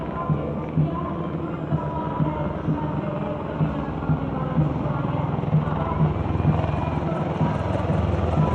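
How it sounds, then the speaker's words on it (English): Apache attack helicopters fly over in the Garud formation during the Kartavya Path military parade, a loud, continuous rotor rumble with a steady pulsing throb that holds and slightly swells throughout, with crowd noise beneath. "And now flying is the Garud formation, a powerful display of indomitable spirit of our Apache attack helicopters"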